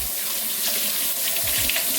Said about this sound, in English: Rinse off my hands really quick, that way they're not super sticky.